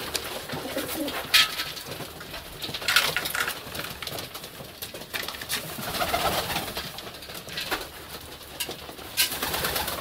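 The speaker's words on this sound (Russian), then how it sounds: "А к ней голуби. Вот они." Pigeons cooing in winter, soft repeated coos close by with a few sharp flutters or clatters in between, no talk.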